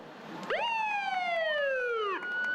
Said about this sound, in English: we have a line of police vehicles and agencies from throughout the valley